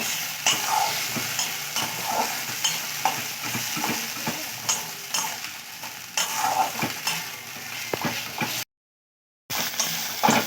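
Spices frying in a pan for whole onion curry, a continuous sizzle broken by repeated spatula scrapes and stirring knocks, close and moderately loud, with a brief dead gap near the end.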